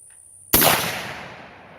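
A single sharp, loud gunshot from a 100-year-old Mauser rifle cracks after a moment of quiet, followed by a long fading outdoor echo.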